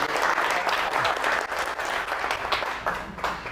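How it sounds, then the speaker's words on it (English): A seminar audience gives a warm round of applause, dense and close, sustained clapping filling the room for several seconds. "A little round of applause for Danielle and his crew."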